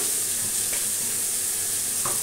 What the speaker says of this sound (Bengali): এই রুটি ভাজছি, দিয়ে দিই।